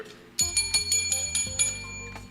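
A small bell rings in quick repeated strikes, bright and ringing, several hits over a couple of seconds with no talking.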